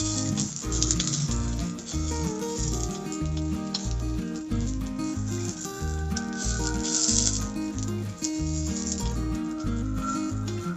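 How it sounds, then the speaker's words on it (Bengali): Gola ruti flatbread fries in hot oil with a constant, fairly quiet sizzle and crackle that continues throughout. "সবগুলো আমরা এইভাবেই ভেজে নেব।"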